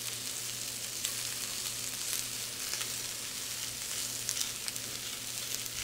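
Carrots, onions and peppers sizzling in a pan for a salmon and shrimp stir-fry, a steady bright crackling hiss with small pops, no talking.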